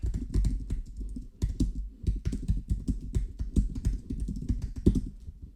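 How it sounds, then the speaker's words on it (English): Rapid typing on a computer keyboard recorded close up by a budget Zoom ZDM-1 dynamic microphone, a dense run of clacking keystrokes with uneven rhythm and occasional heavier bottoming-out taps, continuous for several seconds with no voices. "Let's see how much of the keyboard noise this mic captures."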